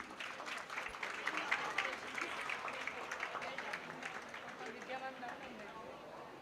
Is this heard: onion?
no